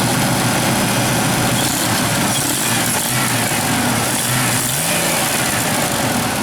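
A 1998 Ford Ranger XLT four-wheel-drive pickup's engine runs steadily near at hand, idling with a loud, constant low rumble and only mild swells as it is revved, with no talk over it.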